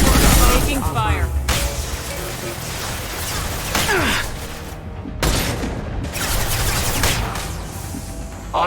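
Gunfire crackles during combat in the Mass Effect 2 video game, with bursts of shots and booms, sharp impacts and a loud opening blast, under voices.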